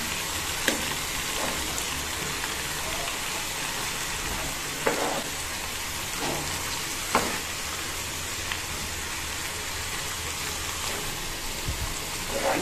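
Soaked, squeezed greens hit hot oil tempered with salt, turmeric and green chilies, giving a steady, moderate frying hiss with a few brief clicks and scrapes of a utensil and no one speaking.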